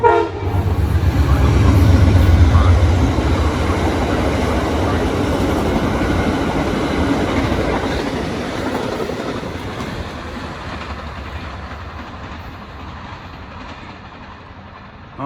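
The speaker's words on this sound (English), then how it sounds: "Here comes Amtrak." Amtrak passenger train passing at speed on track 3, a loud rushing roar with rail clatter that swells early and then steadily fades as it pulls away, with no talk.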